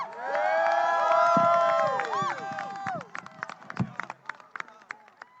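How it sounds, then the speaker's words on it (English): A crowd at a King Day rally in Columbia, South Carolina cheers and whoops for Mr. Steyer. Voices rise together at first, then scattered claps and shouts follow as the noise thins out. "Let's give Mr. Steyer another round of applause"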